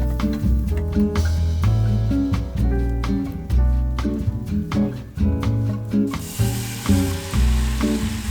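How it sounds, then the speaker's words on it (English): Tuna tomato sauce bubbles in a pan on the stove, a steady close sizzle with soft popping. A regular clinking beat, probably a spoon stirring against the pan, runs through it, with no talk. "And now we let that simmer for a while."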